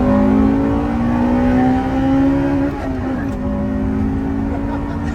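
A yellow Honda Integra Type R accelerates in third gear with a tire slipping, a loud, strained engine note rising steadily up close, dipping slightly midway, with faint voices underneath.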